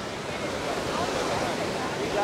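Ocean waves washing onto a wide sandy beach at Campeche, Florianópolis, Brazil, a continuous broadband surf wash with some wind noise, building slightly toward the end, with no talk over it.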